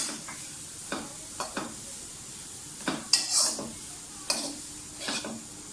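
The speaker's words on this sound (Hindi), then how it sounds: "पाँच मिनट के लिए हम भूनेंगे इन सब्जियों को।" Vegetables with capsicum being stir-fried in a pan, with soft scraping and clinking of a spatula against the pan at irregular moments over a faint background sizzle, no voices.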